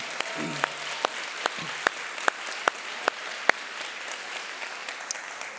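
A church congregation applauds in a steady bed of clapping, with sharp, evenly spaced louder claps standing out throughout and a short voice at the start.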